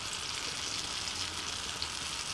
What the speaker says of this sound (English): while the apples, brown sugar, and butter are cooking